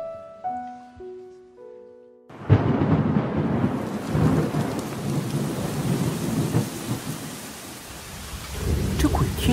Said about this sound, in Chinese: 天气怎么说下雨就下雨啊？